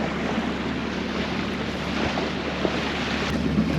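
A sailboat motor sailing on the Intracoastal Waterway, with a steady, loud broadband rush of engine, wind and water continuing without a break and no voices.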